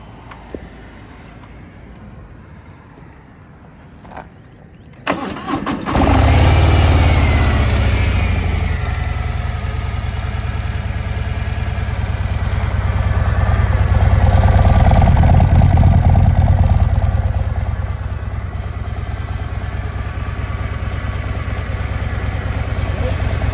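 Motorcycles on a road trip through Texas toward New Mexico: after a quieter opening, a loud, steady engine drone with rushing wind takes over, swelling briefly midway and holding constant to the end.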